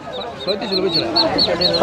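Native ducks at a rural village market in Bangladesh give repeated nasal quacks over a crowd, with people talking nearby throughout.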